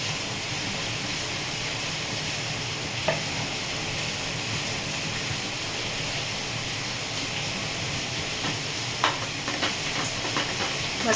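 Paneer bhurji sizzles and fries steadily in a pan while being stirred, a dense continuous hiss with occasional soft clinks of a spatula against the pan, close and unbroken.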